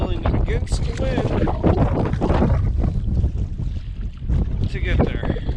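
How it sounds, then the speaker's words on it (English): Canoe paddled against strong wind on big open water, with steady loud wind buffeting and water splashing throughout, and a voice talking intermittently over the noise. "Now I'm paddling against the wind"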